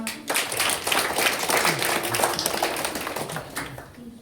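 Audience at a school Word Champion competition clapping steadily and fairly loudly throughout, a dense patter of many hands with faint voices mixed in.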